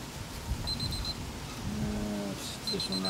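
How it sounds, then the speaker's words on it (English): A meat thermometer alarm on a smoker cooking tri-tip beeps in two short bursts of rapid, high-pitched pulses against steady outdoor background noise and low rumble. "As you can hear from the beeping back here, one of my tri-tips is at 140 degrees."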